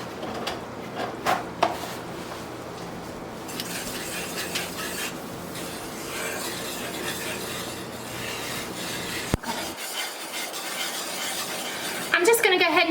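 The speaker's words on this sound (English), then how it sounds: "Give that a stir" A spoon stirs pasta sauce with salsa in a pot, giving continuous scraping and swishing with occasional knocks against the pot, close by and with no talk.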